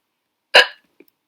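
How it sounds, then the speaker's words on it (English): A single sharp hiccup bursts out once and stops, followed by a faint small click; a boy stuck with stubborn, hopeless hiccups. "You've got the hopeless hiccups"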